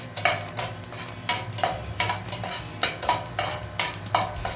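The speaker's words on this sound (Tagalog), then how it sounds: "So after niya na mag-melt, then lagay na natin ang garlic." Garlic sautéing in melted butter in a pan, with regular stirring scrapes and utensil clinks against the pan over a low, steady sizzle, close and moderately loud.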